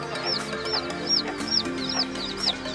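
A Chabo bantam hen clucks close by in a regular, repeating rhythm of short calls, with her small chicks near her and a faint background hum.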